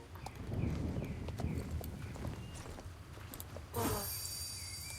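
Horse hooves clip-clop at a walking pace in a video game, a soft rhythmic patter of steps over low background sound, followed by a brief brighter swell near the end.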